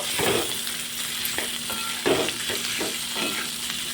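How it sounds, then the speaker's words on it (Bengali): Boiled potatoes with turmeric and salt are stirred in a pan over a soft, constant sizzle, with a series of scraping, knocking spatula strokes at an uneven rhythm, close and clear with no talking. "আলু সিদ্ধটাকে ঢেলে দেব এবার ভালো করে নাড়াচাড়া করে নেব"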